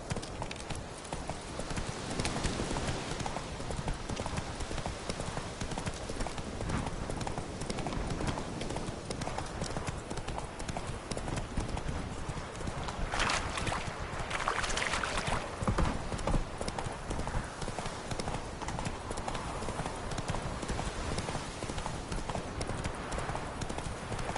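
Hooves of Roach, a horse in The Witcher 3, clip-clop in a fast, steady galloping rhythm for a long stretch, close and continuous beneath game ambience, with no one talking.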